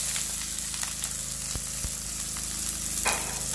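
Chopped onion sizzling in a hot pan, a steady broad hiss of frying running the whole time, with a couple of brief soft clicks partway through and no voices.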